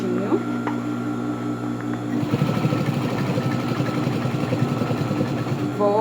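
A sewing machine stitches a seam with a fast, steady mechanical whirr that starts partway through and runs on, close by, with a person speaking over it.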